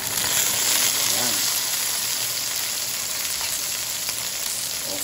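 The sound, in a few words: tomatoes sautéing with aromatics in a pan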